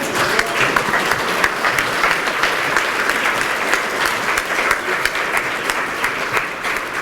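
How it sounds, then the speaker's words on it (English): A conference audience at a tech event in Singapore claps together, a dense steady wash of many hands that fills the room without pause. "can you all stand up and clap your hands?"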